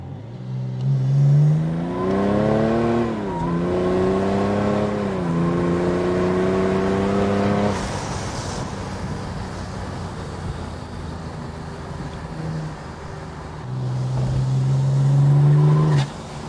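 A Stage 3 tuned BMW 330d E93 convertible's turbo diesel engine revs hard through several gears, pitch climbing then dropping between shifts, with a whooshing release as the turbo cuts when the throttle lifts.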